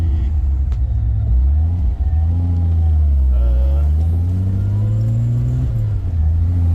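Supercharged Ford Thunderbird with a 4.2 V6, a Kenny Bell 2.1 supercharger and a T56 six-speed manual, heard from inside while driving: a loud, steady low engine drone that climbs in pitch through revs and gear changes.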